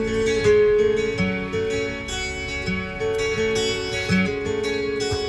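An installed car audio system in a Toyota Innova Reborn plays music through its speakers, with sustained tonal notes and a thumping low end. The music runs steadily with no talking.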